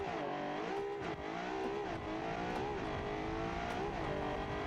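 Drag race car in the racing game GT2 Pro revs hard off the start line, climbing through gears with quick upshifts, engine whine rising and dipping in a loud continuous roar.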